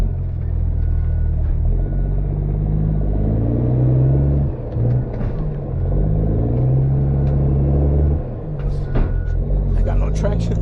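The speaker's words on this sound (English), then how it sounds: "We're going mudding" A Kenworth W900B dump truck with a CAT C13 engine rolls through a muddy site, its heavy low diesel rumble continuous and close, rising and easing, with a voice heard at times.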